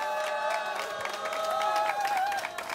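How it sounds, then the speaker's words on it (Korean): An audience at an award ceremony applauds a social welfare prize winner. The clapping is continuous and moderately loud, with light cheering, and sustained music plays underneath. "여러분들 큰 축하의 박수 부탁드립니다"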